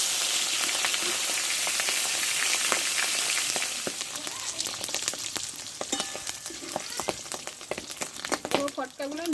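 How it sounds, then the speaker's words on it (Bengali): Fish bladders coated with salt and turmeric fry in hot oil, a loud, steady crackling sizzle with sharp spits and pops that thin out into scattered crackles near the end. "ফটকাগুলো লবণ আর হলুদ মাখিয়ে নিয়েছি আমি ভেজে নেবো ভালো করে"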